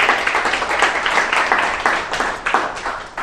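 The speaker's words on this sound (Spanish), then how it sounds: "Yo no sé si usted le puede dar a Dios un aplauso por eso." A church congregation claps together in a dense, loud, continuous round of applause with a slightly uneven pulse, no talking over it.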